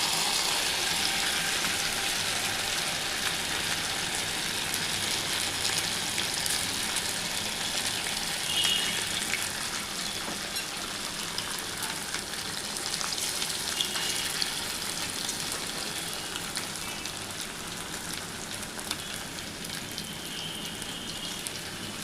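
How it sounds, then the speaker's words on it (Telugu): Chicken pieces fry undisturbed in a pan for chicken fried rice, giving a dense, continuous rain-like sizzle that holds steady and close throughout, with no voices. "చికెన్ వైట్ రైస్కి చికెన్ ఇలా వేయించుకోవాలి మనం"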